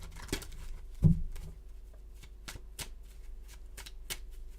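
Tarot cards are shuffled by hand in a quiet room with a run of soft, quick riffling flicks and taps, close up, a couple of louder knocks early on and no one speaking.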